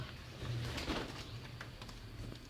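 Soft, low pigeon cooing, a couple of brief murmuring coos heard faintly against quiet background noise.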